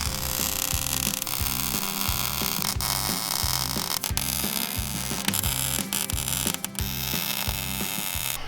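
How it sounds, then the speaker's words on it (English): A steering bracket being welded solid onto a Jeep gives a steady, close crackling buzz over a regular low pulsing hum, continuous and loud for the whole stretch, with no talking. "We've got the bracket right where we want it. I'm gonna get it welded solid."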